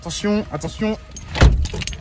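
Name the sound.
getting into a car, car door and keys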